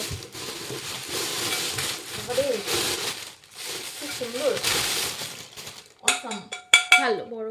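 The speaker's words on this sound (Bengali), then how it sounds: "এটা হচ্ছে একটা প্রেশার কুকার" A large pressure cooker, unpacked as a wedding gift, is handled, with soft metallic rattles under people talking, then several sharp metal clinks near the end.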